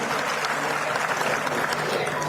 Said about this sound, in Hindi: सुनीता सिंह जी के लिए जोरदार तालियां